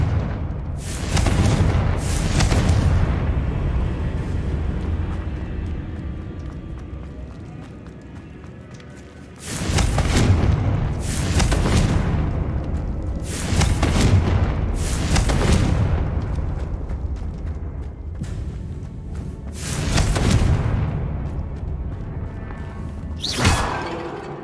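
Repeated Confringo blasting-spell explosions in Hogwarts Legacy, a series of loud booming bursts spaced a few seconds apart, each followed by rumbling decay over continuous game background noise.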